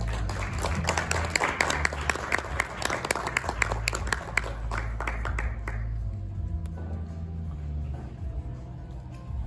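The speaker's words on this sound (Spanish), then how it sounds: "Denme un fuerte aplauso, por favor." An audience at a book presentation gives a Spanish author a warm round of applause: many hands clapping densely for about six seconds, then trailing off into a quiet room with a low hum.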